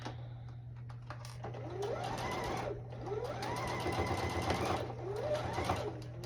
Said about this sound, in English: And now back stitch